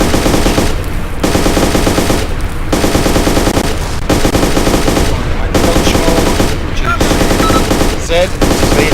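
Sustained automatic gunfire from AI-controlled soldiers in the military video game ARMA 2, loud and continuous with repeated bursts and brief pauses, heavy and close throughout.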